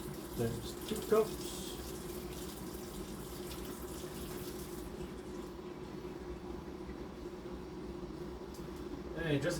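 A kitchen tap runs steadily while water is measured out for cooking rice, a constant close rush that holds for the whole stretch, with a few brief clatters near the start and end.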